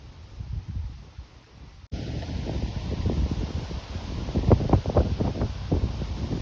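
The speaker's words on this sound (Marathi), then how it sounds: "छान वारा सुटलाय." Outdoor wind blows across a residential colony with wildflowers, a soft rushing that swells after a brief break into stronger gusts buffeting the microphone, with some rustling and no talking.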